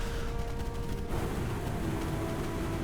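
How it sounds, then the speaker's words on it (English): Rocket launcher fire in the arena shooter Unreal Tournament, a dense stream of booming blasts and crackling explosions over a droning engine hum, loud and continuous with a sharp shift partway through. "Playing some Unreal Tournament here with the rocket launcher"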